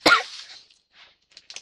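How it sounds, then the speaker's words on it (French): A single sharp cough bursts out close and loud at the start, then trails off into quiet with a few faint small sounds afterward. "Je tousse."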